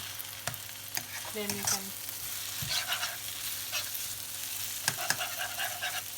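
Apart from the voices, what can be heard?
egg frying and being stirred in a pan for pad Thai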